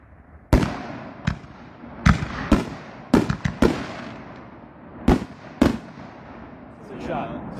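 Hellfire firework cakes fire wizard shells in a series of loud, sharp bangs at uneven intervals, heard from a moderate distance over background noise.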